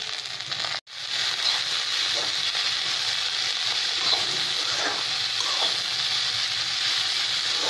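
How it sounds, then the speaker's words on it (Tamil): Cabbage, carrot and beans sautéing in a pan for poriyal give a continuous close frying hiss with faint stirring, broken by one brief silent gap early on. "இப்போது நம்ம முட்டைக்கோஸ், கேரட், பீன்ஸ் எல்லாத்தையும் போட்டு நல்லா வதக்கிக்கலாம்."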